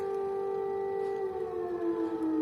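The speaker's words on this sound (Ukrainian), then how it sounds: "почала лунати повітряна тривога в місті Рівне." A wailing air raid siren in the city of Rivne, Ukraine, holds a steady tone that slowly slides lower, heard alone and from a distance.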